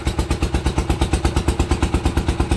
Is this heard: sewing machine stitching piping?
no